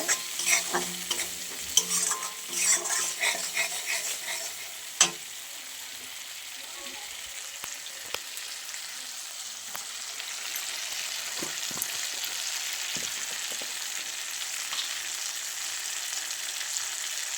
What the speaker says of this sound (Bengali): এখানে আদা রসুন কাঁচা লঙ্কা বাটা আছে, দিয়ে দিলাম। মশলাটা ভালো করে কষিয়ে নেব।